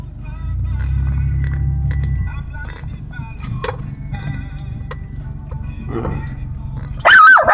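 Turn-signal ticking and low engine rumble inside a car for several seconds, then a loud dog bark bursts in at the very end, close by.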